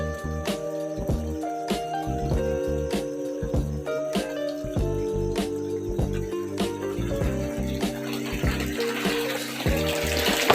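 Water gushing steadily from an irrigation pipe on a farm in Bulacan, a continuous loud rush with faint clicks and hum underneath, and no voices.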